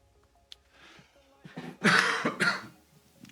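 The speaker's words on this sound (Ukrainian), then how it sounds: "вибачайте за кашель" A man coughs hoarsely into a quiet room, a faint throat sound first, then two or three harsh, close coughs in quick succession, ending with a soft trailing clear of the throat.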